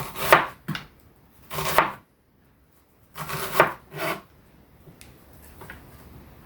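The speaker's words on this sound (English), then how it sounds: "Nicely sliced onion." A knife slicing an onion on a chopping board, several distinct crisp cuts in uneven bursts with short pauses between, close and clear with no voices.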